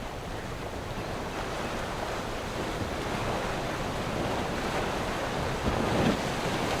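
Ocean surf and wind at Pfeiffer State Beach on the Big Sur coast of California, a steady, dense roar of breaking waves with gusting wind buffeting the microphone, unbroken throughout.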